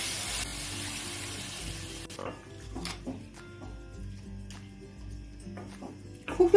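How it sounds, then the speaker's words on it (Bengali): Two cups of water are poured into a pot of rice for a chal potol (rice with pointed gourd) dish. A rushing pour runs for about two seconds, then stops, leaving light clinks and handling noises. "সেই কাপ মেপে আমি 2 কাপ জল দিয়ে দেব"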